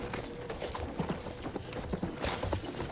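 Horse hooves clip-clopping in a steady trotting rhythm in the video game Battlefield 1, close and continuous over a busy background of ambient game sound.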